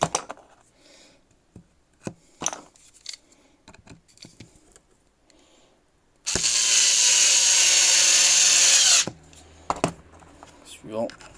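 A Teccpo cordless screwdriver whirs loudly for about three seconds as it drives a screw into furniture. Scattered clicks, ratcheting and handling noises come before and after the burst.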